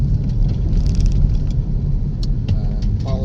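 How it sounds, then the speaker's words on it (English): Heater blower fan running inside a moving car on the drive to work, a steady broadband whoosh that blends with low road rumble throughout. "The heat is on, so you're probably hearing the blower fan."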